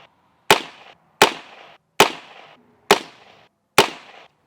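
Five sharp, loud gunshots from a Heritage 16-inch barrel rifle fitted with a red dot sight, fired at a 20-yard target, evenly spaced with short echoing decays and no talking.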